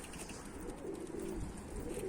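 Soft cooing and fluttery sounds of Mardin pigeons in a steady outdoor hum, fairly faint and continuous with no talking.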